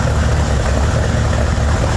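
Abandoned Chevy Impala with a 350 V8, long sitting and just started for the first time, idles with a deep, steady low rumble and a slightly uneven loping pulse, loud and close, with no talk.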